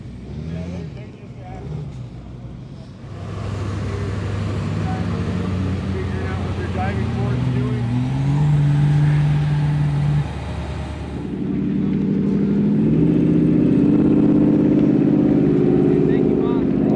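Heavy tow trucks rumble in and line up at an off-road event; a low, steady engine drone swells as they arrive, with people talking over the noise.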